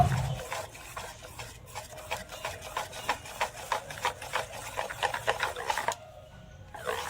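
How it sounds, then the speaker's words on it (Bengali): Saffron food colouring is stirred into bundiya batter in a bowl, a rhythmic wet scraping and slapping of steady strokes, close and moderately loud, stopping abruptly near the end. "এবারে কেশরের কালারটা দিয়ে মিশিয়ে নেব"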